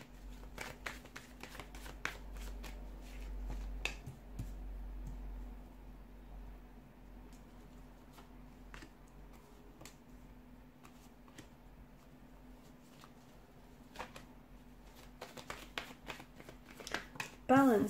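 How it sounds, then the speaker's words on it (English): Tarot cards being shuffled by hand, with soft riffling and light card clicks recurring through the clip over a low steady background hum, fairly quiet and close. "let's go ahead, give the cards a shuffle"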